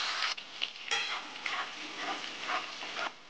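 Chopped onion, potato pieces and cumin seeds fry in hot oil in a pan, a steady loud hiss of sizzling broken by stirring scrapes and small clinks of a utensil, with no voices.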